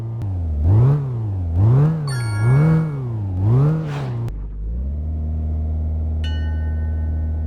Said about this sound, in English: It drives now like a regular Lada.